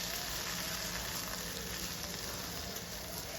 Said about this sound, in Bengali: এইভাবেই নেড়ে চেড়ে ভাজতে রইলাম।